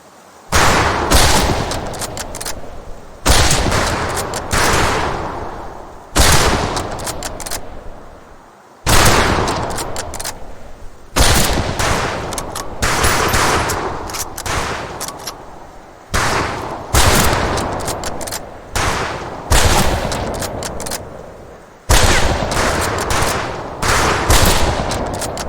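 Repeated bursts of rifle fire on a firing range in the World War II shooter Medal of Honor Pacific Assault, loud and close, coming in clusters of rapid shots every few seconds with brief pauses between volleys.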